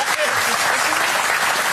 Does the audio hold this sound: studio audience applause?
yes